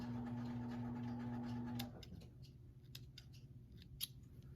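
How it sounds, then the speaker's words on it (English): Scissors snip the loose threads of a freshly sewn buttonhole, a few small quiet cuts following a steady machine hum that stops partway through. "I'll trim those threads a little bit."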